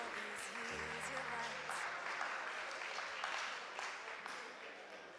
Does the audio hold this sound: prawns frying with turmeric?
no